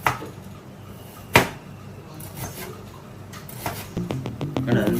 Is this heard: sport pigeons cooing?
no